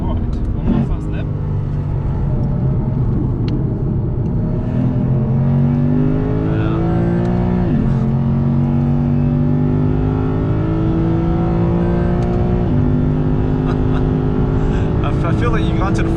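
A Lexus RC F Track Edition lapping the Nürburgring Grand Prix circuit, its engine loud and close from inside the cabin, pitch rising through each gear then dropping at shifts, with speech over it.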